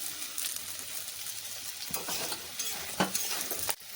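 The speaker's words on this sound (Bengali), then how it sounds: "গাজরটাকে দিয়ে কিছুক্ষণ ভেজে নিয়েছি এবার দিয়ে দিচ্ছি ক্যাপসিকাম আর দিয়ে দিচ্ছি তিনটে কাঁচা লঙ্কা কুচি" Carrot, capsicum and chopped green chillies for samosa filling fry in a pan with a continuous hissing sizzle, stirred with scraping utensil strokes and one sharper clank near the end, close and alone.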